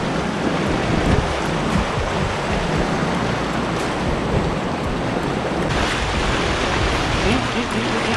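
Sea waves surging against rocks on the coast at Noen Nang Phaya near Chanthaburi, Thailand, a steady loud wash of surf and wind with speech-like voices mixed into the roar.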